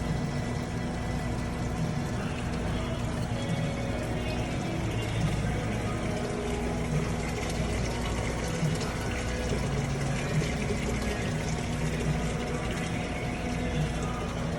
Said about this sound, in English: So I'm going to leave them open and drain them out.